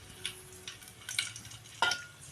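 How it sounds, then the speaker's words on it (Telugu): Whole cloves, cardamom, cinnamon and mace hit hot oil with crackling sizzle and sharp clinks of a metal spoon stirring the pan, in uneven bursts close by. "నూనె అయితే హీట్ ఎక్కింది. ఇప్పుడు లవంగా, ఏలక్కాయ, చెక్క, జాజి మొగ్గ ఇవన్నీ వేస్తున్నా."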